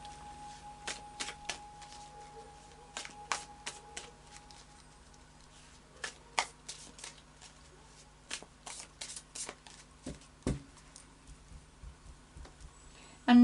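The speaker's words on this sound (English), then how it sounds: "So I'll just do a final shuffle of the Anarchy Tarot." Anarchy Tarot cards are shuffled by hand close up, giving irregular bursts of crisp riffling clicks and flutters spread across the clip against a quiet background.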